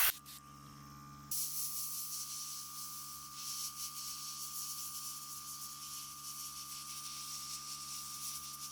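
Airbrush spraying white paint onto the teeth of a DIY Venom mask: a steady close hiss of compressed air that starts softly and then opens into a stronger continuous spray, with no talking.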